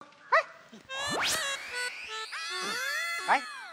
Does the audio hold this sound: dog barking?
yes